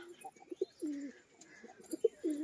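A male fancy pigeon coos in a loft, a series of soft, low, throaty rolling calls at close range, rising and falling in short bursts with faint chirps behind.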